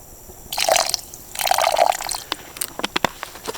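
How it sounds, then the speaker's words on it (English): Water poured into a pot of simmering chili on an outdoor kitchen: two gushing pours with a sloshing fill, followed by scattered drips and splashes. "let's add a little water to that and cook it down"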